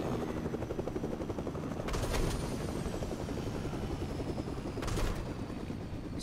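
A helicopter in the video game Fortnite drones steadily with a rhythmic rotor chop, overlaid by two short bursts of gunfire; no talking.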